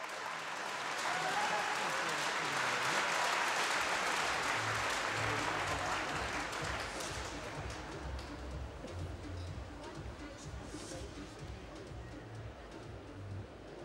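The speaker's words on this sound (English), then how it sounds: "a massive round of applause for our new British record holder" Large crowd in a swimming arena at the British Gas Swimming Championships applauding a new British record holder, a broad roaring wash of clapping and cheering that peaks early, then slowly fades while low rhythmic sounds carry underneath.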